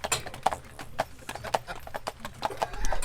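Horses clip-clop steadily as they pull a carriage through a misty German street, hooves striking in an uneven repeating rhythm at close range, with faint voices and a brief whinny-like sound in the background.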